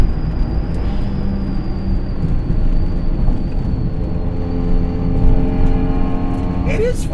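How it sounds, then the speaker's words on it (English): A Hyundai Veloster Turbo engine drones steadily from inside the cabin, its turbocharged note climbing toward redline near the end beneath people talking. "right as the turbo really starts to get going, I hit red line."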